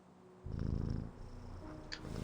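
A cat purring contentedly in a video game, a steady low rumbling purr that starts after a brief quiet moment and continues close and soft, with a faint higher tone above it and no talking.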